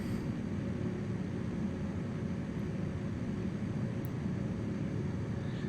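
A Zlin Savage Cub bush plane in Microsoft Flight Simulator drones along in flight, its engine a constant, even roar that holds steady and unbroken throughout.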